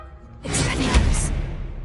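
In Hogwarts Legacy, the Expelliarmus disarming spell fires as a single loud, bright rushing whoosh that swells quickly and sustains to the end of the brief moment, with no talking.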